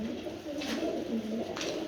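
Pigeons kept as pairs with their young coo close by in soft, throaty rolling calls repeated several times over low background noise.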